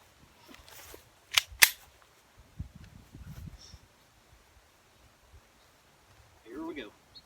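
Two sharp, distant-sounding pistol shots from a Taurus TX22 in an outdoor setting, followed by faint rustling and a short low murmur near the end.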